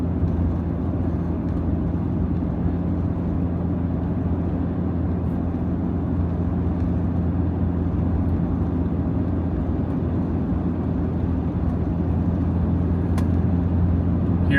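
A Toyota 4Runner driving on a road at night, a steady low engine and road drone inside the cabin with passing traffic blending into the continuous rumble, no talk.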